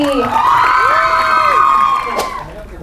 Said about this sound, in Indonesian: Oke, tepuk tangan sekali lagi dong untuk Prisley.